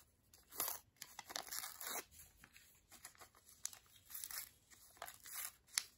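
Edges of a piece of paper being torn by hand, with a series of short, close rips and crinkles in an irregular rhythm, quiet and alone.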